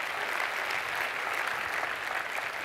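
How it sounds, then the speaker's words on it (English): An audience at a session of a technology and creativity conference applauds in a steady, dense wash of clapping that stays even and moderately loud from start to finish. "I'll happily take a round of applause for that"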